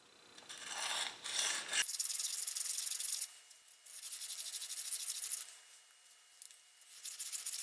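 A high-speed steel shaper cutter is rubbed on a 1200 grit diamond stone in a series of short, close, raspy strokes separated by brief pauses.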